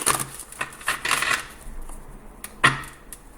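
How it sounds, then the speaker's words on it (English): A new tarot card deck is shuffled by hand, giving soft riffling and papery flicks in short uneven bursts, close and quiet, with a sharper card snap near the end. "I'm going to shuffle on camera."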